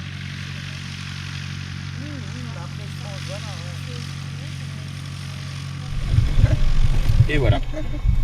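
Heard from on board, a small propeller airplane in flight keeps up a steady droning hum while voices talk over it, and a heavier rumble builds toward the end.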